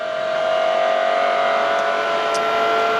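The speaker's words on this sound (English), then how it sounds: "as we come off, we're going to be accelerating up to the maximum speed" McLaren F1 road car running at speed off the banking as it accelerates toward its 240 mph top speed, a steady loud engine drone with strong sustained tones and wind roar filling the whole stretch.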